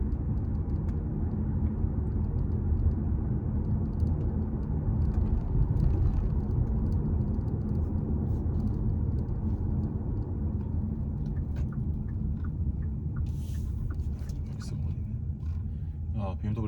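A Kia Soul Booster EV cruising on a road under openpilot, a steady low road and tire rumble throughout while someone talks over it.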